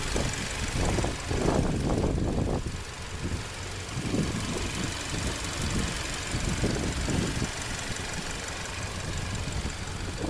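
A 2014 Kia Sportage EX with a 2.4-liter four-cylinder engine idles steadily after start-up, a continuous low rumble with some uneven pulsing early on, fairly close with no talk.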